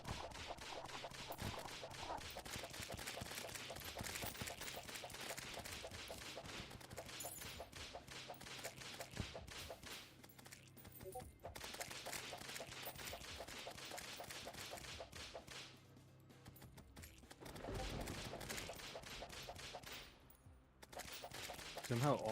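A shotgun and other guns fire in a video game, with dense rapid bursts of shots that run almost continuously and pause only briefly, loud and close.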